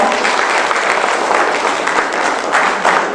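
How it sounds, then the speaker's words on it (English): An audience at a conclave in a Srinagar hotel applauds with dense, steady clapping that holds at an even, loud level throughout. "Ladies and gentlemen, please give a big round of applause for her."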